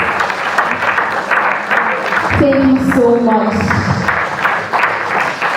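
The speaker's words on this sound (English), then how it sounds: "Please let's continue clapping to get to our seats" Audience applause at an event fills the room throughout, with a spoken thank-you heard over the clapping.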